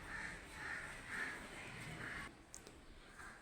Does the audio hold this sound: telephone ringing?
no